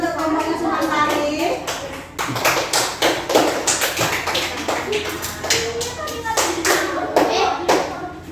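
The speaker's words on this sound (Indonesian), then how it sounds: "berikan tepuk tangan untuk kelompoknya Sumantari." A school class claps for a student group after its presentation, loud nearby hand claps in uneven bursts with a short pause partway through, along with light thumps and faint voices.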